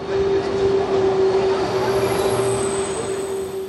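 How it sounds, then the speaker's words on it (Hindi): A South Korean high-speed bullet train at roughly 300 km/h gives a loud, steady rushing roar with a sustained tonal whine, constant throughout, no talk. "ये बुलेट ट्रेन तकरीबन 300 किलोमीटर प्रति घंटे की रफ्तार से चलती है"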